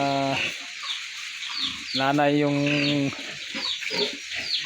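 Chickens, including mother hens, clucking and squawking close by in short bursts, while a person talks in the foreground over the birds.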